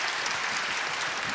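An audience at a pastoral strategy conference panel applauding a guest lecturer, a brief, even burst of many hands clapping that stays dense and steady, heard at moderate distance without speech.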